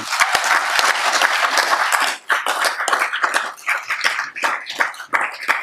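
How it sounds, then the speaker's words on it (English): Loud, close applause rises from people at a regular council meeting, many hands clapping in an uneven patter with a few sharp individual claps, thinning into scattered claps toward the end. "Let's give yourselves a round of applause again"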